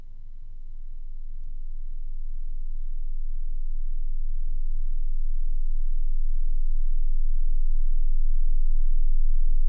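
A very low infrasound test tone plays as a steady hum that slowly grows louder over about ten seconds, with faint room noise and no voices.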